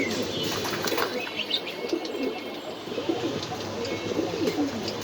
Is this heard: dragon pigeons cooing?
yes